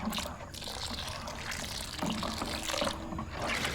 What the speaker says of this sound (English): Mrs. Lopez then proceeds to gently stir the curds whilst adding hot water